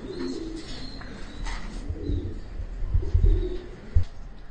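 Pigeons coo softly in a racing pigeon loft in Manila, a few low murmuring calls repeating at close range over a faint background hum, with no talking.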